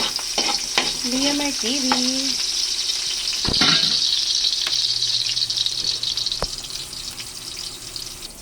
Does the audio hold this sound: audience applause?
no